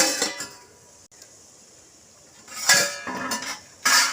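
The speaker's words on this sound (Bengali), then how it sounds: "দশ মিনিট পরে আমি ঢাকা চাপাটা খুলে নিচ্ছি" A lid comes off a pot of rasgullas boiling in syrup, with metallic clanks and scraping clatter in two loud bursts near the end after a quieter stretch.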